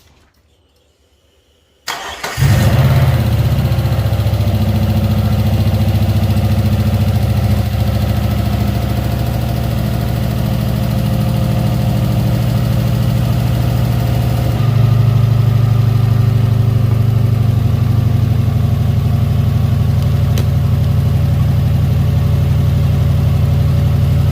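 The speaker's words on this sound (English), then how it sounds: "We're just gonna crank it up, see how it goes." A Subaru engine with a new fuel pressure regulator, previously stuck open and running rich, cranks after a short silence, catches and settles into a steady, loud idle that continues without talk.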